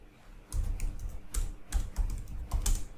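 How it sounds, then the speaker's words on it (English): Password typed on a computer keyboard: a handful of close, crisp key clicks in irregular bursts after a brief quiet start, with no talking. "let's enter the password."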